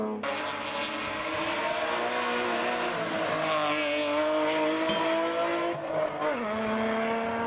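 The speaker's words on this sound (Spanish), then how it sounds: "Rápido los BMW." A BMW race car roars past at speed during a hill climb, a loud sustained engine howl with shifting pitch and tire noise, dominating the scene without speech.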